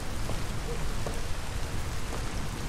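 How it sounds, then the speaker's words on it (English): Dense, steady rain falls outdoors in the video game Detroit: Become Human, a constant close hiss of drops striking surfaces with faint scattered splashes and no talk. "Once again, walking outside in the rain"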